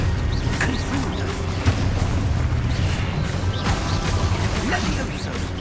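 Confringo blasting spells exploding in the video game Hogwarts Legacy, with dull booms and crashing impacts over a rumbling battle din, mixed under a voice calling out.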